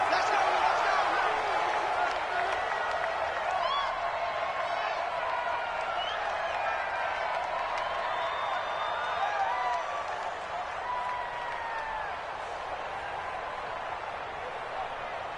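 A football stadium crowd roars in a steady, dense wash before a Tampa Bay Buccaneers vs Detroit Lions game, slowly fading a little over the fifteen seconds. A commentator talks over the crowd noise throughout.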